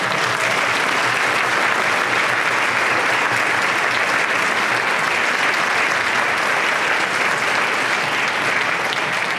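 An audience at a community event applauds local businesses with a loud, dense burst of clapping that holds steady for about nine seconds.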